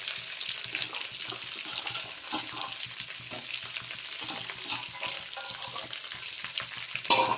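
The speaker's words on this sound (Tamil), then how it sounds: "இதையும் நல்லா வதக்கிடுவோம்." Shallots, garlic and coriander sautéing in a pan for a Chettinad pirandai kuzhambu, a steady close sizzle and crackle with occasional stirring scrapes that continues throughout without voices.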